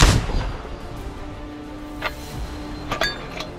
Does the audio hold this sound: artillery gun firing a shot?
yes